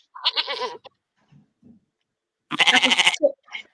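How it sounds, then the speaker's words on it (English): A sheep bleats in two loud, wavering calls separated by a quiet gap, with a few faint short sounds between and after, played as a clip in a radio quiz. "That's a sheep, but I can do a better sheep noise than that."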